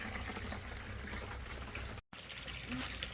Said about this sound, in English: Filling the IBC Tote up with water